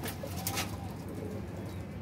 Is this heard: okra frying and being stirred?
no